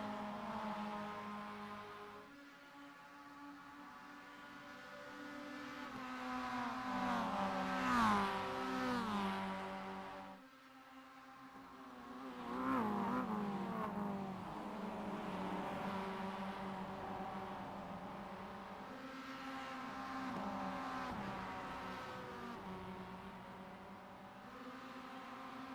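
MX-5 Cup race cars lap a track in a sim racing game, engines droning and revving through the gears in rising and falling sweeps, steady and moderately loud with no talk.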